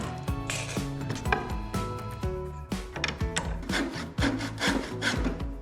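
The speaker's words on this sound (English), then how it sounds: "We need to cut this 1-inch wooden dowel down to 24 inches." A one-inch wooden dowel is cut by hand saw, producing close rasping back-and-forth strokes in an uneven rhythm, with light knocks of wood among them and no talking.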